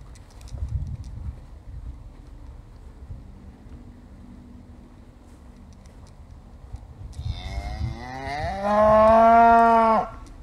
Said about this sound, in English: Jens, don't they have cows in Norway? Could have been a bull